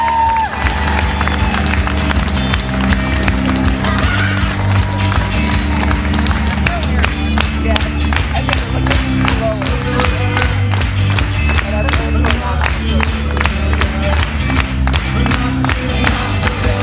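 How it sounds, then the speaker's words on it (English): Live concert audience at a podcast show claps and cheers loudly and continuously, dense rapid applause filling the whole stretch without a break. "Recording was speeding up as you clap faster."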